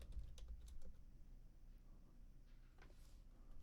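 Someone types on a computer keyboard in quick, uneven runs of close, soft clicking and tapping that continue throughout.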